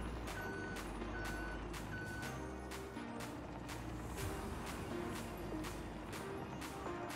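A forklift loading grape juice pallets onto a truck in Farming Simulator 22, its steady reversing beeper pulsing evenly over a constant low engine drone, with occasional light clanks.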